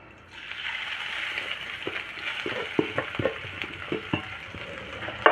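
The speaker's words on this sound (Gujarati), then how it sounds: "ઘી ગરમ થાય એટલે આપણે હળદરને તળી લઈએ." Fresh turmeric frying in hot ghee in a pan, a steady soft sizzle with scattered small pops and stirring clicks throughout.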